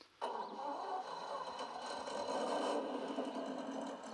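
Electric motor of a handmade RC car-hauler truck with trailer whines steadily under load in slippery grass, a continuous buzzing drone that holds and rises slightly as it strains, fairly close.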